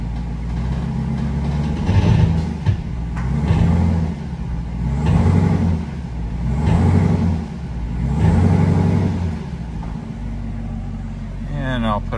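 Chevrolet Camaro ZL1 1LE engine running with the 10L90 transmission in drive, a loud low rumble swelling and easing in repeated surges, with people talking over it.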